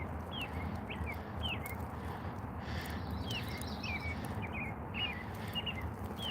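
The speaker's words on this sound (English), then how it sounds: "You can hear the birds singing." Quiet, repeated chirps and short bird calls ring out over a low outdoor rumble, scattered throughout at a soft, steady pace.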